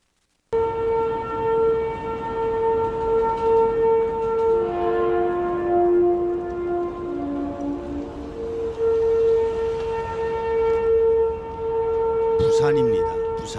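A loud, sustained trumpet-like tone said to come from the sky over Busan, droning steadily and bending slightly in pitch midway, with a brief higher warble near the end and no talking.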